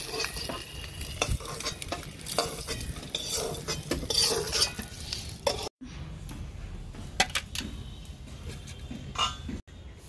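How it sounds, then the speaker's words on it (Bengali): Double-yolk eggs frying in oil in a pan, a close, steady sizzle with utensils scraping and clinking against the pan throughout, no voices. "ডিমগুলো ভাজা হয়ে গেছে"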